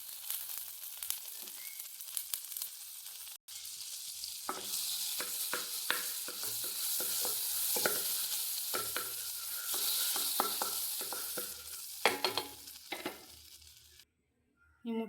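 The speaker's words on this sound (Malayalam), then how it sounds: "ഇതിനകത്ത് ബട്ടർ ഇട്ട് കൊടുക്കാം." Butter melting and sizzling in a pan on the stove: a continuous hissing sizzle that swells and holds, broken by frequent light scraping clicks of a utensil, close and moderately loud, cutting out near the end.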